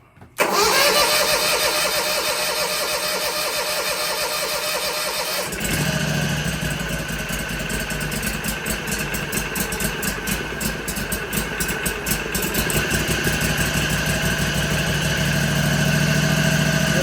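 A 2020 BadBoy mower's Kawasaki FR730V engine, smoking and fitted with new rings, cranks loudly, catches after several seconds and settles into a steady, close, rumbling idle that continues to the end.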